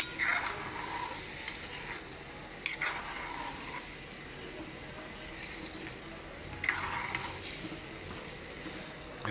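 Pot of pesang tilapia broth with garlic, ginger and onion coming to a boil, a steady bubbling simmer with soft sizzling and a couple of brief stirring clinks, moderately close, no talking.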